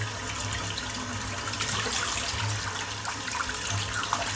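Running tap water rinses lather out of a Semogue shaving brush, making a soft, continuous splash and trickle that stays faint and even throughout, with no speech.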